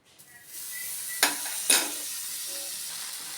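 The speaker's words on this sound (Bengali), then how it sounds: "আমি এটা উল্টে দিলাম যাতে ওপিঠটা একটু ভাজা হয়" Aloo tikki fry in butter in a pan with a steady soft sizzle, broken by two sharp clacks of a spatula against the pan as the patties are turned over.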